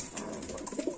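Lakkha pigeons at a bird market coo softly in a short, faint burst of low murmuring calls that swell toward the end, with no speech.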